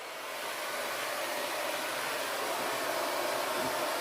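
An FHI hair dryer fitted with a diffuser blows steadily on wavy hair, a continuous breathy rush of air with a soft motor hum at moderate, even volume, heard alone without talking.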